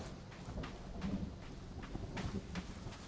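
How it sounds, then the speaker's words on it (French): Rain and thunder in the video game The Forest, a steady hiss of rainfall with low rumbling swells and a few soft thuds, moderately faint and continuous, no talking. "Et ben il pleut."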